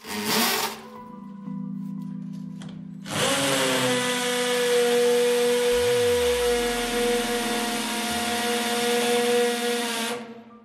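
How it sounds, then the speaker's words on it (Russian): A Rokodil Twist 2 Pro impact driver, used as a drill, whines loudly and steadily at close range, running for about seven seconds after a short initial burst, its motor droning evenly. "Ну что ж, сверлит неплохо."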